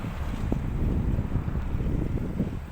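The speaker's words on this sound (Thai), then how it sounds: "ลมแรงครับ" Steady, heavy wind buffeting the microphone at a dusty site where a dump truck unloads soil, with a constant low roar and no breaks, loud and close throughout.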